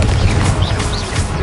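Confringo blast spell going off in Hogwarts Legacy, a loud, dense rumbling boom with crashing debris that fills the whole moment amid ongoing combat noise.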